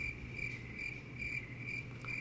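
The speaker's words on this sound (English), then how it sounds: "Crickets." Crickets chirping in a steady pulsing rhythm, a thin high repeated trill about twice per second, faint and alone.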